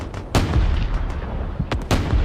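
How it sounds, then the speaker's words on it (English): Heavy artillery fire in the video game Space Engineers: a few sharp, loud blasts with rumbling booms between them, over a dense, continuous battle din. "Some more artillery, shot there."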